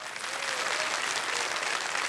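Studio audience applause on the KBC game show Kaun Banega Crorepati, a continuous burst of clapping from a packed crowd, even and full from start to finish.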